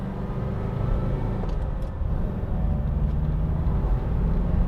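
A Riley 4/Seventy-Two classic British saloon car accelerates, its engine a steady low rumble heard from inside the cabin, rising slightly in intensity as it gets going, with no talk.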